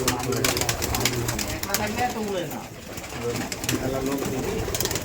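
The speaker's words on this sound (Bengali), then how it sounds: "কালি কবুতর" Pigeons coo continuously at a pigeon farm, with soft repeated low coos close by amid ambient bustle, while someone talks over them throughout.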